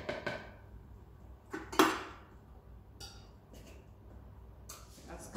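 Whisking a vegetable gratin mixture in a bowl: a few scattered clinks and scrapes of a whisk against the bowl in short bursts separated by quiet gaps.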